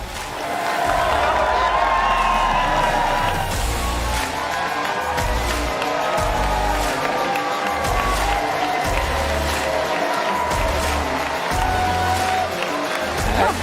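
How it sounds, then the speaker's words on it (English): A large audience at CPAC 2026 in Dallas, Texas cheers and applauds loudly and steadily for a fireside chat with Robert F. Kennedy Jr., the roar sustained over a pulsing bass-heavy music track. "I think you got a very loud cheer"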